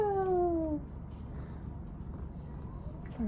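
A female cat being petted gives two close, clear meows, one at the start and one at the end. A soft, low rumbling purr fills the stretch between them, and no one speaks.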